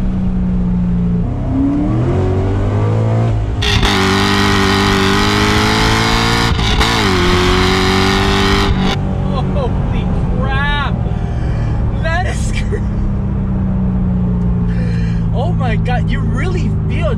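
A Corvette C6 Z06 engine roars up through hard acceleration, with loud rising revs, brief gear-change dips and a settling drone, while people talk excitedly over it.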